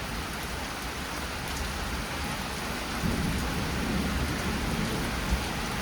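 Steady rain and a low rumble of thunder from lightning striking during a strong thunderstorm at a lake, the rumble swelling midway and rolling on as a distant, continuous roar.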